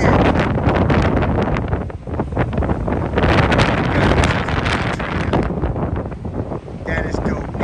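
Loud, roaring gusts of a cold wind storm buffet the microphone on the Ocean City, New Jersey boardwalk, rumbling and fluctuating continuously, with a voice partly buried underneath.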